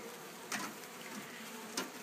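Honeybees in a shipping package hum in a faint, steady drone, with a couple of brief louder buzzes as individual bees pass close.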